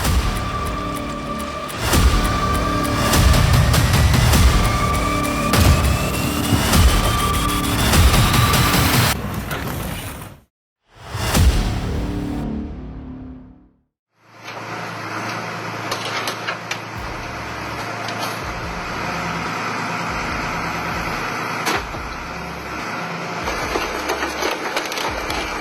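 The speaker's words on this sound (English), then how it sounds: "these machines tear through any material, turning solid blocks into fragments in the blink of an eye" An industrial crushing machine tears through scrap, a loud, dense grinding and crunching roar that runs continuously, drops out briefly, then returns with heavy rhythmic thuds under the din.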